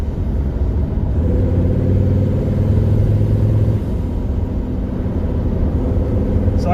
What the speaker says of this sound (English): the exhaust note or the exhaust intrusion that I'm getting into the car, not fumes but sound